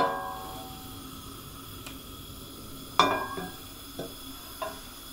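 Vegetarian sausage and bean casserole sautes in a lidded pot over lowered heat with a soft, steady sizzle, broken by a few sharp clinks and knocks of pot or utensil.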